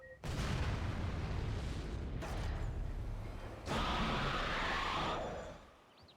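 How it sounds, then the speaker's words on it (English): A loud, sustained explosion in a video game erupts and roars for several seconds, then a second blast bursts in midway, with the rumbling noise fading out at the end. "That's gonna explode."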